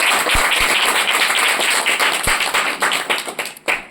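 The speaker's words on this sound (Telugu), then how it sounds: "కాబట్టి చేబ్రో ధనలక్ష్మి ఒకసారి అందరూ గట్టి క్లాప్స్ కొట్టండి." A devotional gathering's audience claps loudly together, a dense continuous patter with a few sharp louder claps, thinning out toward the end.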